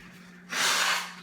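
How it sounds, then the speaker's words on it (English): A single short, forceful nose blow: a burst of breathy air rising abruptly after a moment of quiet and trailing off, close and alone. "I'm just going to blow my nose."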